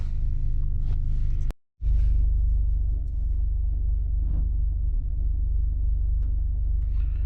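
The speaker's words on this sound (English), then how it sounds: "just started the Golf up" VW Golf MK5 engine idling after start-up with a P2293 fuel pressure regulator fault: a steady, low, close rumble with one brief cut in the sound near the start.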